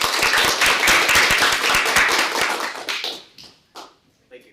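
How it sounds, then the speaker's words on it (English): An audience applauds at a first-year mock trial competition, a burst of clapping that fades after about three seconds into a few scattered claps, with a voice briefly speaking over it. "Another round of applause."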